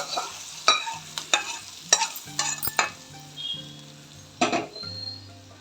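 Dried red chillies, curry leaves and asafoetida sizzle in hot oil in a pan while making a mango pickle, with a steady crackle and repeated clinks and scrapes of a spoon stirring, no voices.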